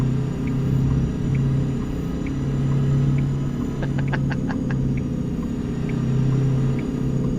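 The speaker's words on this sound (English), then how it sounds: "This is an old Detroit diesel, two-stroke." A K100 truck's old two-stroke Detroit Diesel engine in a driving video game, a steady low rumbling idle drone with a brief burst of higher metallic rattling partway through, heard alone without talk.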